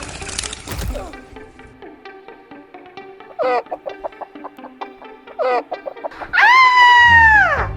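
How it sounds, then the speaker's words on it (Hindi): Chickens cluck in quick, irregular bursts up close, with a few louder squawks, ending in a long, loud rooster-like call. "ये तो मुर्गी है।"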